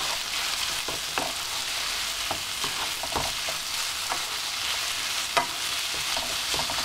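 Soaked rice goes into a hot pan for mushroom pulao and is gently mixed, giving a steady, fairly loud sizzle with scattered scraping stir strokes throughout.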